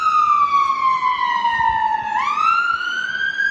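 A UK ambulance siren wails, sweeping down in pitch, then rising again, loud and steady throughout with faint traffic rumble beneath.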